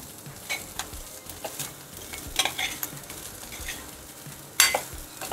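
Vermicelli dry-roasting in a pan for sevai upma, stirred with a utensil: soft scraping strokes and light crackle over a faint sizzle, with one sharper clink near the end.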